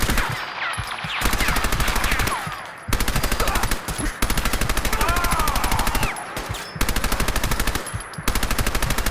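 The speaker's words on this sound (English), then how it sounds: "Silver Shroud, the bullets, they bounced, ricocheted right off your raiment" Automatic gunfire from the video game Fallout 4 rattles in rapid, loud bursts separated by brief pauses, with whizzing ricochet sounds and occasional metallic clanks among the shots.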